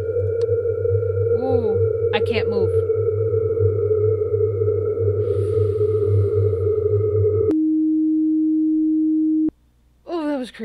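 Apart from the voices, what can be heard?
distortion effect in horror video game I'm on Observation Duty 4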